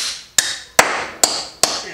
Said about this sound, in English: And I'll hammer it in with this tool.